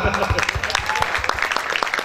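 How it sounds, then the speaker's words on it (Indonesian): Brief, loud, scattered clapping from a small audience at a student debate on a government policy, rapid uneven claps close by, with a few voices mixed in. "Tepuk tangan dong."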